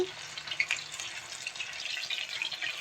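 Bangda mackerel fish frying in oil in a pan, giving a steady, moderately quiet hiss and sizzle with light crackles throughout and no voices.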